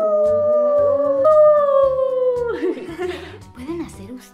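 Several voices, children and adults, imitate a wolf howl with long rising and falling 'aoo' calls, close and loud, breaking into cheering and laughter at the end.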